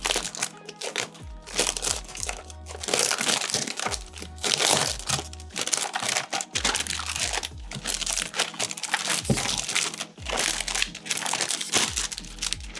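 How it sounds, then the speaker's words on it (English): A Razer Huntsman Tournament Edition keyboard is pulled from its box amid loud, continuous crinkling and crunching of packaging, with close rustles and crackles throughout and no speech. "let's go ahead and pull the keyboard out of the box."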